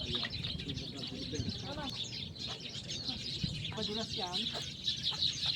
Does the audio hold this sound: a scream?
no